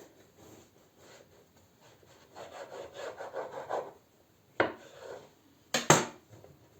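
A knife saws through a loaf of Easter paska bread, giving soft rasping back-and-forth strokes close by, followed by a few sharper scraping bursts against the crust or board.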